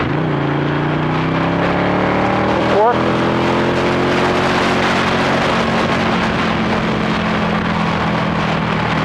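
Ducati 1199 Panigale motorcycle ridden on a wet track, engine note rising and holding steady close to the microphone amid heavy wind noise, with speech over it.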